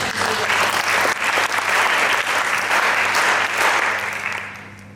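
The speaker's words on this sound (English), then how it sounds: "So a round of applause." Steady, dense clapping from a crowd at a children's model parliament event, sustained throughout and tapering off at the end.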